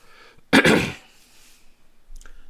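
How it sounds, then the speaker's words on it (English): A single sharp, explosive cough bursts out close by, followed by quiet and a faint rustle. "Gonna try to stop coughing on camera."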